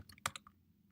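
A handful of quick keystrokes on a computer keyboard, sharp close clicks in an uneven burst with one louder tap, alone in a quiet room.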